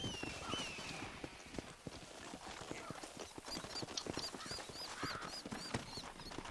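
Horse hooves clip-clopping in the video game Red Dead Redemption, a steady rhythmic trot of crisp hoof strikes close by, with faint bird-like calls in the background.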